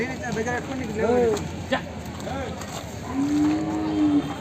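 Low drawn-out mooing from a dairy buffalo stands out amid background voices and bustle at the Kondamadugu buffalo market, one long call toward the end.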